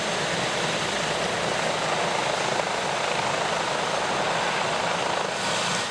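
A rescue helicopter flies over a train crash scene, its rotor and engine producing a loud, steady, unbroken roar throughout.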